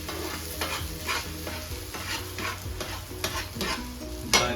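Pork chorizo cooking in a skillet, a steady close sizzle and frying crackle with repeated scraping and stirring strokes, no voices.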